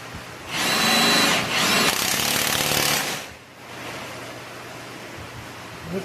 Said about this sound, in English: Just hit that with the impact.